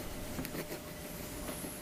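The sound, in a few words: train clicking on the track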